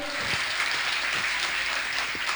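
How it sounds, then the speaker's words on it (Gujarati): An audience at a scholarship award ceremony claps steadily, a dense, even patter of many hands sustained throughout, fairly close and without talk. "જોરદાર તાળીઓથી આપણે આ સન્માનને વધારીએ."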